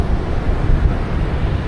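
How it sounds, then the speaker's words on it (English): Strong gusty wind on the coast at Sandwood Bay, Scotland, buffets the microphone in a dense, roaring rush, with a low surf-like wash underneath and no voices. "It's windy as hell"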